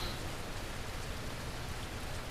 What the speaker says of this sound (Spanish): ahora se va a escuchar mucho la lluvia